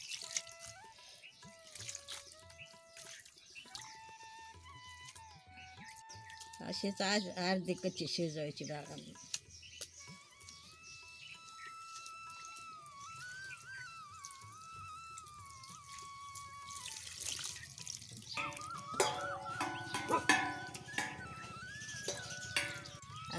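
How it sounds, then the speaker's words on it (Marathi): Water runs and splashes as vegetables are rinsed, heard intermittently beneath someone talking, growing more noticeable toward the end. "आता थंड पाण्याने धुवून काढू."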